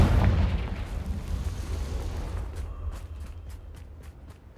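Fiery Confringo spell explosion in Hogwarts Legacy, a loud deep boom that rumbles and slowly fades, followed by faint crackling debris.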